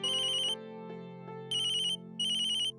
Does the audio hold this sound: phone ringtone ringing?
yes